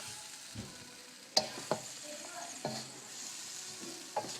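A cooked stir-fry is tossed and mixed in a pan with the heat turned off, producing scattered scraping and clinking utensil hits over a faint soft sizzle, close and moderately quiet.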